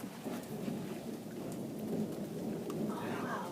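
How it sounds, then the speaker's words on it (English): Steady rain pours outdoors during a thunderstorm, with a low thunder rumble rolling underneath, continuous and moderately loud. "That is thunder."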